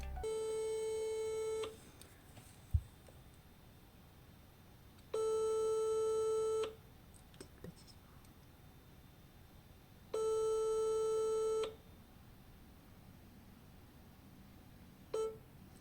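A French telephone call rings through the handset before going to an Orange voicemail: three long, evenly spaced electronic ring tones, each about a second and a half, separated by quiet gaps, with a faint click between.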